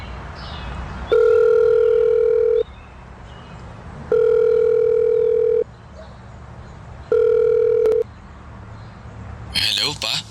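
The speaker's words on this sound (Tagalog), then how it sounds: "Buti pa tawagan ko na lang muna si Nilo." A phone ringback tone heard while a call is placed on a cellphone, three steady buzzing rings with silent gaps between them, loud and close, with a brief burst of other sound at the very end.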